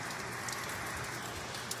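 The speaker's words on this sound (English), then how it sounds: "And now it's just going to go back to nice, easy rain." Steady, even rain falls without a break, a dense constant hiss of drops on surfaces, close and moderately loud with no voices.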